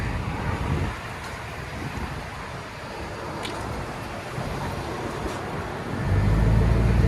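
A 2009 Chevy Silverado LT with a 5.3L V8 and Dynomax Race Bullet exhaust idles steadily nearby, a low broadband rumble that grows louder and deeper near the end, with no talking.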